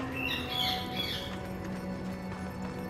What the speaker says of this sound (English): Sorry again for the birds, I just don't know when to be quiet.